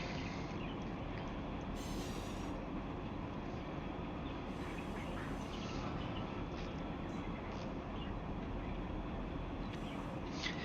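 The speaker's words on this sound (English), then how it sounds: "Sound of train cars moving." Freight train cars rolling along rails in the Run8 train simulator, a steady continuous rumble of wagons with occasional brief high squeals or hiss bursts, no talking.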